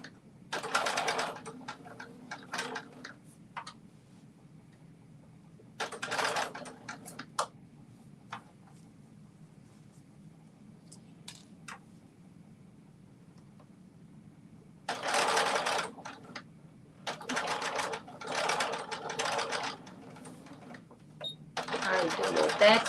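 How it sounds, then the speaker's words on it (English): A home sewing machine runs in several bursts, stitching a garment seam for a McCall's 8555 pattern, with pauses between runs and quiet room tone in the gaps. "we have finished sewing up this other side"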